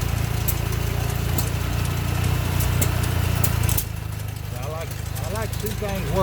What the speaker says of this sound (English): Here's one running a bigger pump.